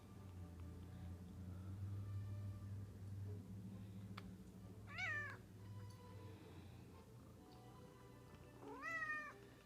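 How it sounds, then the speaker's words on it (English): A house cat meows twice, clear rising-falling cries spaced a few seconds apart over a low steady hum in a quiet room. "One of my cats is trying to be an absolute butthead, so don't be surprised if I have to yell at her or if she yells back."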